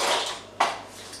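Drinking glasses fetched and handled for a quick dessert, two bright clinks a moment apart, close and fairly quiet, with no talk.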